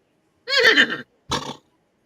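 A man imitates a horse neigh with his voice, a loud whinnying cry followed by a shorter second burst, close and alone.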